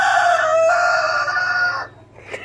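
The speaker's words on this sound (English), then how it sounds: "Yard rooster wanted to join." A yard rooster on a homestead crows once, a loud, close, drawn-out call lasting nearly two seconds before cutting off, followed by a brief softer cluck.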